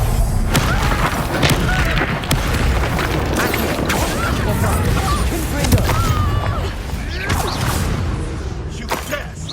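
Fiery Incendio spell blasts in Hogwarts Legacy, loud repeated booming bursts and whooshing flames amid battle clatter and crashes, with a voice briefly shouting over the din.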